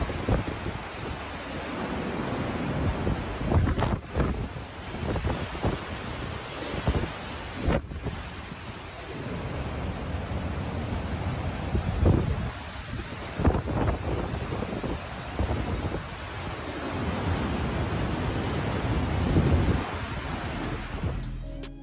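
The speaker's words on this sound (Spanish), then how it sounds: "son las grabaciones en tiempo real tomadas durante la tormenta" Hurricane Ian lashes the coast with strong wind buffeting the microphone and roaring surf, a dense, continuous storm roar with bursts and rumbles throughout, no voices.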